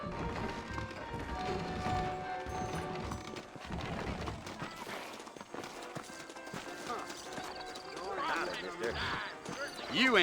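Hooves clip-clop steadily at a trot while a voice talks over them, with a brief horse whinny near the end, in the video game Red Dead Redemption.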